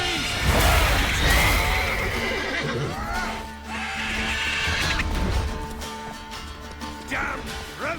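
Roach the horse in The Witcher 3 gives loud, wavering whinnies and neighs amid clattering hooves and the crashing noise of a fortress battle.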